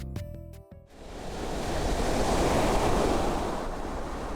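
Ocean waves break on Haeundae beach in Busan, a broad, roaring wash of surf that swells and fades steadily after a brief musical tone at the start.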